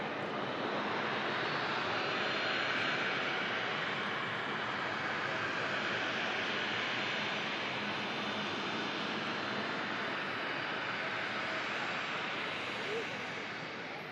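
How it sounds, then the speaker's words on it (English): EasyJet airliner climbing out after takeoff with its landing gear retracting, a steady broad jet roar heard from a distance that stays level throughout, with no talk. "Gear goes up on the EasyJet."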